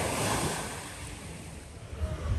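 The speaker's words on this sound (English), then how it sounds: "this is the beach." Waves wash onto the beach at Yalikavak Marina in Bodrum: a steady, broad surf rush with wind buffeting the microphone, swelling slightly toward the end, with no voices.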